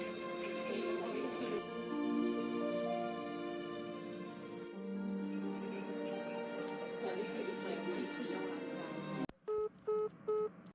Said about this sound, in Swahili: chukua simu yangu wapigie.